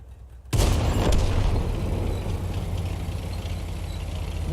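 A Hetzer tank destroyer's large-calibre derp gun fires in World of Tanks: one sudden, loud, heavy boom followed by a sustained rumbling roar that fades slowly.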